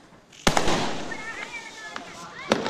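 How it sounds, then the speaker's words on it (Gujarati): Diwali fireworks and firecrackers burst in a few sharp, loud bangs with sparkling crackle between them, set against people chatting nearby. "આ આપણા ફટાકડા છે એલા"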